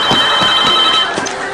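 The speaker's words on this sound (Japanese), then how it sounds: "電話です。" A telephone rings in a steady, loud electronic trill with a regular pulse, close by and heard alone without talk.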